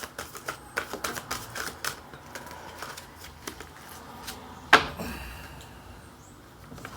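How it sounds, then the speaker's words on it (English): Quiet tarot cards shuffled in a run of soft, irregular riffles and taps, with one sharper snap partway through; no voices. "I won't complain about having to shuffle these today."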